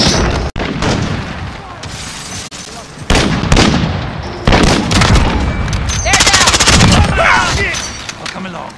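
Gunfire in Call of Duty Warzone, with loud bursts of automatic fire and sharp single shots cutting in and out over a busy battle din, close and intense, with brief pauses between volleys.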